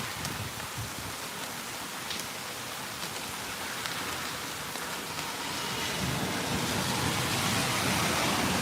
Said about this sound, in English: Rain should stop at some point.